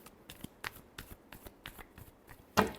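Tarot cards are shuffled by hand in a series of quick, soft riffling bursts at close range, with a sharper slap at the end.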